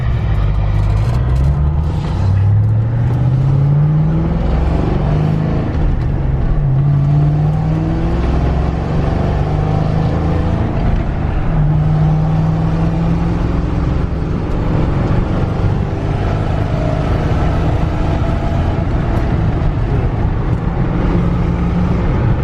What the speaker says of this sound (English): It runs, it drives, it shifts, it's doing great.